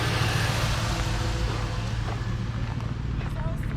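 A car engine idles steadily with a low, even hum, running continuously beneath a person talking nearby.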